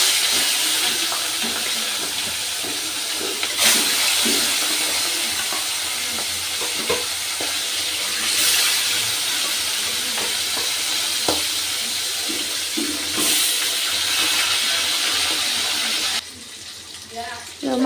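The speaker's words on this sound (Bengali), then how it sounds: "এবার মাছগুলো আমি ভেজে নেব" Falli fish frying in hot mustard oil in a wok, a loud, continuous close sizzle with a few sharp clatters, broken off abruptly near the end.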